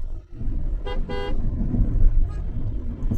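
Two short car horn toots close together at a city intersection at night in Dhaka, clear and fairly near, over steady road and engine rumble.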